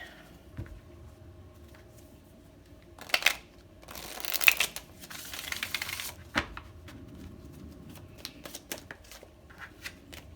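Cards being shuffled in several quick riffling bursts, with softer taps and handling noises between them, close up and without talking.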